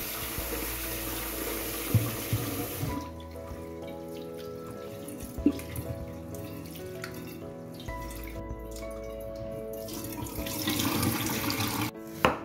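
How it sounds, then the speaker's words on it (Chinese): Four cups of white rice being washed, with water running from a tap into a sink, then quieter sloshing and light clinks as the grains are rinsed, close and moderately soft. "白米洗干净后备用"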